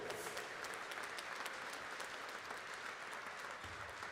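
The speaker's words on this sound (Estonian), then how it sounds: "Palun aplausi!" Applause from an audience at an awards ceremony for the 2021 Estonian men's handball cup, steady, dense clapping that carries on evenly for several seconds without talk.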